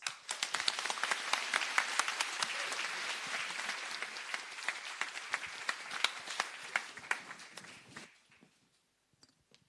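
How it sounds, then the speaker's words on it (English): Sustained audience applause at an awards ceremony, dense and fairly loud with many hands clapping, continuing steadily for about eight seconds before tapering off into near silence with a few stray claps. "big round of applause"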